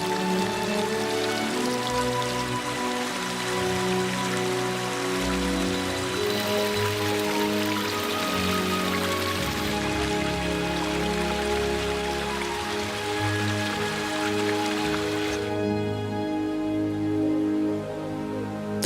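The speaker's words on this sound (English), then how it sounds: "The streams fill with rainwater and bring a magical touch to the forest with numerous waterfalls." Steady, loud rain falls in a forest, mixed with rushing streams and waterfalls, dense and continuous throughout with no voices.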